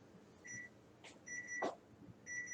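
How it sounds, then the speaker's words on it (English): A kitchen oven timer sounds three short pairs of high electronic beeps at an even pace. They are fairly faint over quiet room noise, with a couple of soft clatters in between. "there's our timer"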